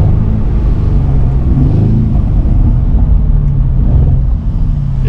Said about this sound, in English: Listen to this downshift.